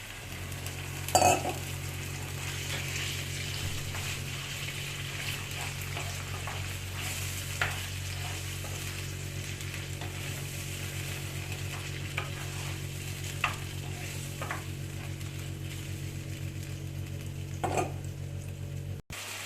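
A pan sizzles steadily as chicken sautés, with an occasional clink or scrape of a utensil, close and fairly quiet.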